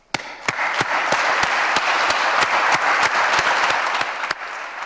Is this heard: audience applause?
yes